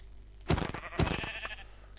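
A sheep in the video game Minecraft bleats twice, two short, fairly quiet calls about half a second apart, heard alone.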